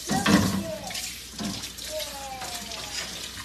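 Tap water runs into a clay cooking pot being rinsed without soap, a splashing stream with sloshing bursts and a few scraping and clunking handling noises, close by, alongside faint voices.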